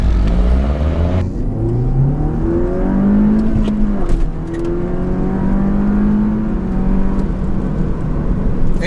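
A 2013 MINI Cooper S Roadster with its roof up, in sport mode with traction control off, accelerates hard from a standstill; the engine revs climb and fall through several gear changes, loud and close from inside the car.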